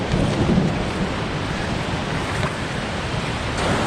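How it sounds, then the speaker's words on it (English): Keel Creek in the Yukon runs as a raging torrent: a loud, continuous roar of rushing whitewater, close by and steady throughout. "the last 2K of Keel Creek are just a raging torrent"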